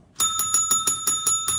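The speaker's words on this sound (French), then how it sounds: "Ça faisait longtemps qu'on n'a pas entendu sonner cette petite cloche." A small bell rings in a quick, even series of about eight bright strikes, each one a sharp metallic hit with a ringing tone that carries into the next, loud and close with no talking.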